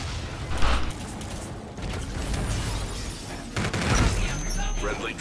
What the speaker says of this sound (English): but someone threw a grenade